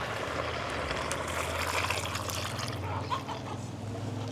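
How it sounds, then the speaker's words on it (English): Water trickles and pours into a pot of matoke (cooking bananas) being cooked with salt in a village kitchen, a steady liquid splash with low hum underneath, no talk. "You can add just a bit of water"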